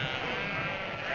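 Sheep crowding a road bleat continuously, a close, loud, wavering bleat filling about a second, with no talk over it.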